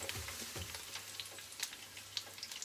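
Chayote fries sizzle and crackle steadily in hot oil as they begin to turn golden, a continuous close frying hiss dotted with small pops.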